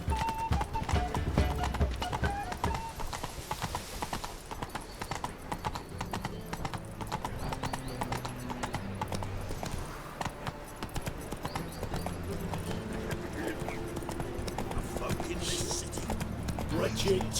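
Roach, the horse in The Witcher 3 Wild Hunt, gallops in a rapid, continuous clip-clop of hooves with an occasional whinny, mixed under game music and spoken lines throughout.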